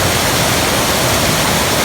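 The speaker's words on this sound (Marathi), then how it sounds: "पाण्याच्या आवाजासमोर माझा आवाज खूप छोटा पडतो" Loud, continuous rushing of a stream's water along a forest path to a water source in Konkan, a dense steady roar filling the whole moment with no voices.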